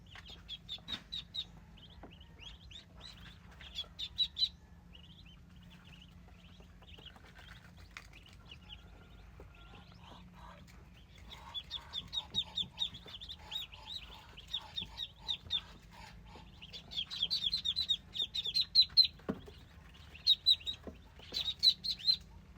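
Newly hatched ducklings being moved to a new pen give off bursts of high, thin peeping that come and go in clusters, fairly close and moderately loud, with a low background hum beneath and no talking.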